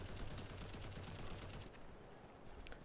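Rapid automatic gunfire in the video game Modern Combat Versus, a dense stream of loud close shots for under two seconds, followed by a few scattered single shots against lingering noise.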